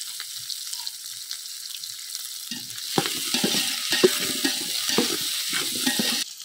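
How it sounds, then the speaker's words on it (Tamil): Chopped onions sautéing in a pan for biryani, a soft sizzle at first, then louder with repeated clattering stirs and scraping in the second half, close by, no speech. "வெங்காயம் சேர்த்துக்கலாங்க, கட் பண்ணி வச்ச வெங்காயத்தை."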